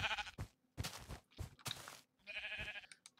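Sheep in the Minecraft game bleat several times in quick succession, short wavering cries close by, separated by brief pauses.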